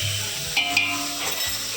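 Crushed garlic and asafoetida hit hot oil in a home kitchen, giving a steady sizzle with a couple of brief clinks and a stir, close and without talk.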